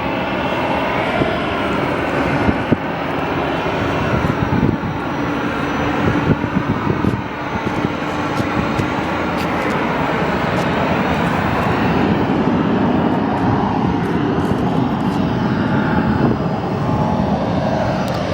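A Southwest Boeing 737 arriving from Santa Ana taxis past at the airport, its jet engines giving a loud, steady whine and rumble that holds throughout, with some wind buffeting the microphone.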